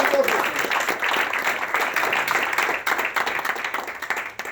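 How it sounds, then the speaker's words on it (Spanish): A church congregation gives a loud round of applause for the Lord, dense sustained clapping close by that fills the whole moment and tapers slightly at the end. "Denle un fuerte aplauso al Señor"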